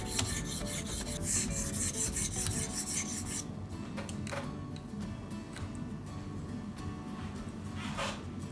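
An abrasive stone on a TSPROF Kadet Nero knife sharpener rasps back and forth across a blade in a quiet, steady rhythm of gritty strokes, close up, with no one talking.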